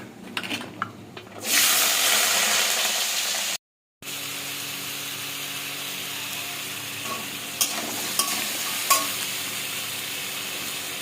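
Washed vegetables hit hot oil tempered with panch phoron, dried red chilli and whole garam masala, bursting into a loud, steady sizzle after a quieter start, with a brief gap and occasional stirring clinks.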